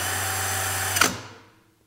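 A power drill fitted with a 1.5-inch hole saw whines steadily through wood, then spins down abruptly after a short bump, the tone fading out over the last moments.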